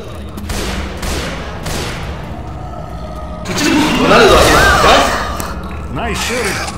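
Railgun gunfire in the video game Left 4 Dead 2, repeated bursts of shots with heavy thuds, loud and close over game background noise, with voices calling out during the fight.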